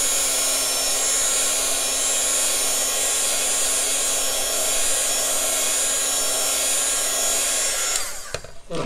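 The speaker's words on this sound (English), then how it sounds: "I'm just going to heat dry it because we're on a video, to make it quicker." A heat tool blows steadily and loudly over freshly stamped ink for about eight seconds, a constant hot-air roar that cuts off near the end and leaves brief faint handling noise.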